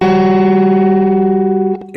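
A guitar sustains a dissonant seventh interval through effects with distortion and chorus, two steady stacked tones ringing loud and alone before cutting off near the end.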